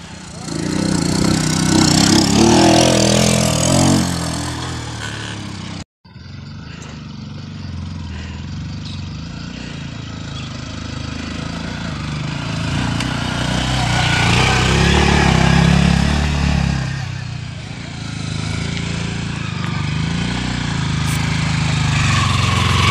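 A Yamaha WR155 trail motorcycle engine runs close by, revving and droning with rising and falling pitch over a long stretch, briefly cut off early on.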